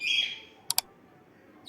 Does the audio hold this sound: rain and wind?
no